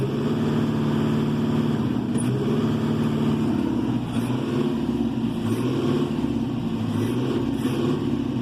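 A Fendt 410 Vario tractor engine idling steadily, a continuous low, even drone close by with no talk.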